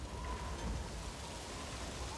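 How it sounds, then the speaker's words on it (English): Steady, even rain falls in the open-world video game Metal Gear Solid V: The Phantom Pain, a continuous broadband hiss with no voices over it. "now you notice it's started to rain"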